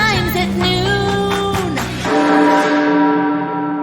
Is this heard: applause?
no